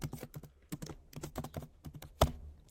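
Quick keystrokes on a computer keyboard entering a server name, a rapid run of close, crisp clicks with a brief pause and one sharper final tap.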